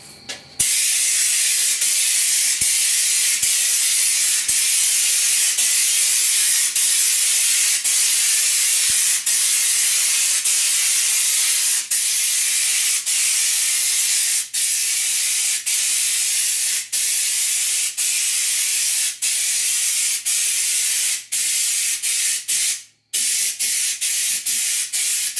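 Spray gun applying Lizard Skin spray-on insulation to the doors of a 1969 C10 truck, producing a loud, steady hiss that runs almost without a break, with brief ticks and one short pause.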